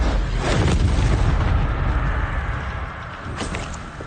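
A Confringo blasting spell in Hogwarts Legacy erupts in a loud, rumbling explosion that slowly fades, with a couple of sharp crackling bursts on top.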